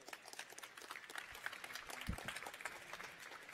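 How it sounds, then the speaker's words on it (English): Audience applause at a science talk as the next speaker is introduced, a soft, steady patter of many hands clapping at a distance, fairly faint throughout. "Give a big applause to Luiz."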